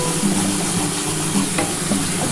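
Spiced masala sautés in a pan for a vegetarian eggplant jhal, with a close, steady sizzle and occasional scraping stirs running continuously without talk.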